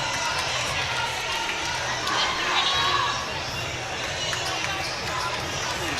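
Home basketball crowd in a packed high-school gym, a continuous dense roar of cheering and chatter with student section and band present, sustained evenly at mid distance alongside a commentator's voice.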